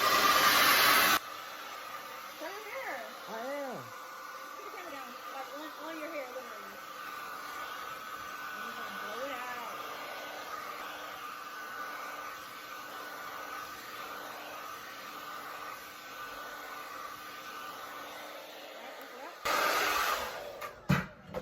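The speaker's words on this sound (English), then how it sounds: "Oh, my purple blow dry." A purple hair blow dryer runs steadily with an airy, even whoosh for about eighteen seconds, close and moderately loud, with a voice briefly heard over it near the start.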